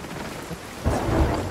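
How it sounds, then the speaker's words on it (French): Thunderstorm with heavy rain at sea in the pirate game Sea of Thieves: a steady wash of rain, then a loud low rumble of thunder rolling in about halfway through and continuing to the end. "Ah ça y est, on est dans la tempête"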